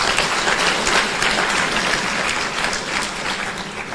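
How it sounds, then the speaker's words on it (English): Steady applause from the audience at a renewable energy conference and expo, an even, continuous wash of clapping that eases slightly toward the end. "let's clap for the Prime Minister."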